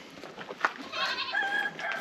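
Small goats bleat at a visit in Morocco, with a few short, wavering cries rising over a busy background and faint voices.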